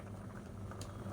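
Sago almond payasam boils in a pot on a medium flame, giving a faint, continuous bubbling simmer with small pops and no talk.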